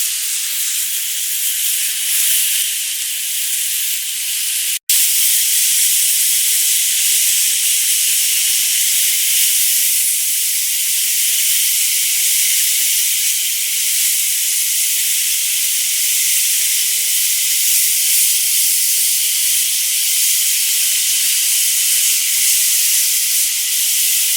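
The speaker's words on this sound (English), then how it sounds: "this is the new Blackstone Griddle, and I'm going to add my kebabs on" Filipino pork BBQ kebabs sizzle on a Blackstone griddle, a loud steady hiss close by that holds without letup after a brief break, with no talk.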